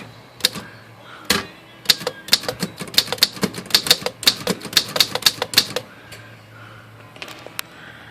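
Keys clacking on a vintage Underwood 5 manual typewriter, a quick irregular run of sharp strikes close by that slows to a few light taps, with no talking.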